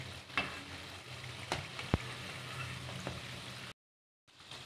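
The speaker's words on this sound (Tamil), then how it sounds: "பாருங்கள் எல்லாம் போட்டாச்சு எண்ணெயில். இது வெந்துட்டுருக்கு." Chandrakala, an Indian Diwali sweet, deep-frying in hot oil, a steady close sizzle and bubbling with occasional sharp crackles and a brief break in the sound.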